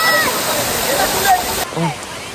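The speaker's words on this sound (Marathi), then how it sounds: "निसर्गरम्य सडा धबधबा" Rushing roar of the Savatsada waterfall near Chiplun in the monsoon fills the background, with a few voices speaking over it nearby.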